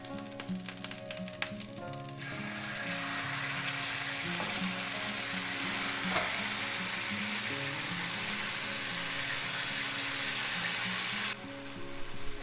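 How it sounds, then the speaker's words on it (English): Hot barbecue sauce poured over ribs sizzles and crackles loudly, a brief clatter at the start giving way to a sustained, bright frying hiss that runs steadily for several seconds before cutting off near the end, with no talking. "I'm going to pour the sauce right on top."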